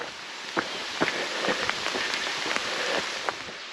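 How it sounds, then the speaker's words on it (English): Light rain patters steadily in a mountain forest, with scattered individual drops tapping nearby over a continuous soft hiss. "We can hear the rain, so we know it's coming."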